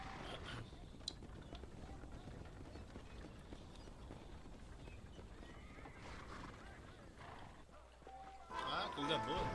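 Horse hooves and whinnies from a galloping horse in the Western video game Red Dead Redemption, a steady clatter under continuous voices talking, with a brighter burst of game sound near the end.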